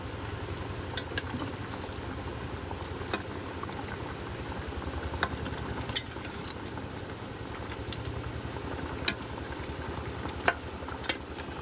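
A pot of magur catfish curry, spiced with coriander, chilli and garam masala powders, bubbles at a steady boil, with a continuous dense patter and a few sharper pops and clinks standing out.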